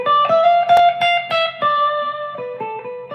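A handful of electric guitar notes built on a minor third, some sounded together, ring out in a brief lick with a mildly overdriven tone, close and fairly loud.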